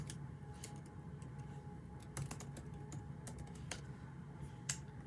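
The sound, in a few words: typing a password on a computer keyboard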